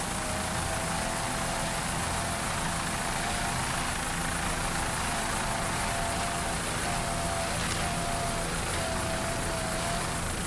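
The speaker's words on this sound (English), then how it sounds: "Nice throttling there by Tony Buffamani." A Mercury-powered Warlock racing powerboat engine at a 2002 Daytona race throttles in a steady, dense roar that sounds distant and washed out, with no voices.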